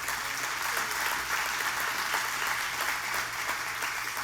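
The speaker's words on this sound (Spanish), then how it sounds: "Dale ese aplauso a Dios." Congregation applauding in church during a sermon, a broad, even wash of many hands clapping at moderate distance, sustained throughout without talking.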